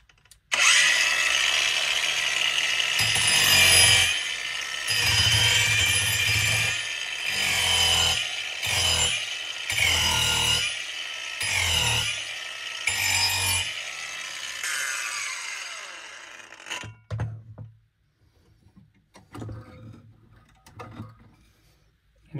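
An angle grinder fitted with a 115 mm wood rasp disc shapes wood, loud and close, in repeated rough grinding bursts separated by short pauses, then fading into scattered lighter scraping and quiet gaps toward the end.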